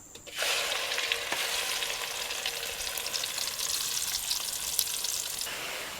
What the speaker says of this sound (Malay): Tumis sehingga pecah minyak.